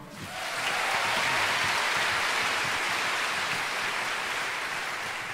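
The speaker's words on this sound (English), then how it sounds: "can we have a round of applause for all the designers so far?" Sustained audience applause for designers at a fashion show, a broad, even hiss of many hands clapping that swells quickly and holds steady, sounding like rain.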